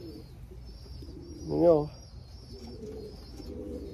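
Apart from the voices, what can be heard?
racing pigeons cooing in loft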